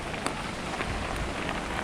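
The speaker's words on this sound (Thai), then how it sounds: "ฝนตกหนักครับ" Heavy rain pours down steadily during a summer storm, a dense, loud hiss of drops striking surfaces that continues without a break and with no voices.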